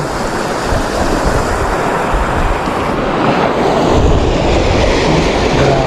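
A strong floodwater current rushes past a damaged road, a loud, continuous broadband roar of churning water with no pauses and no voices.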